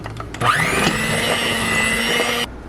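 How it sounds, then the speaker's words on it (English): An electric hand mixer whirs steadily through cake batter on medium speed, a continuous close motor whine that switches on and runs evenly for about two seconds before cutting off. "so next we're going to mix this up for 2 minutes on medium speed"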